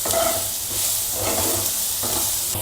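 Onion and capsicum sizzle in a pan on a lowered gas flame, a steady close frying hiss with light stirring scrapes and no talk.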